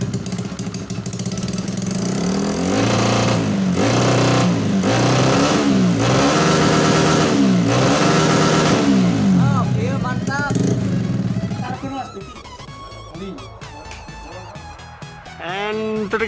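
A Honda Beat FI 115cc motorcycle engine revs loudly and close in a rapid series of throttle blips, then drops to a quieter idle while a person talks over it.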